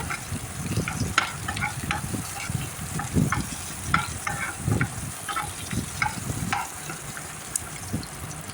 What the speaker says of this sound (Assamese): এতিয়া এইখিনি ভালকৈ ধুনীয়াকৈ একদম ৰংচঙীয়াকৈ ভাজি ল'ব লাগিব।